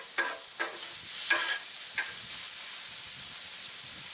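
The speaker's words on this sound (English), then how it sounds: "I'm using it to work the vegetables, get them starting to thaw over here on this little cooler side" Vegetables sizzling on a grill's cooler side while being worked with a homemade grill tool made from an old hoe, several scraping pushes at the start over a continuous close frying hiss, no voices.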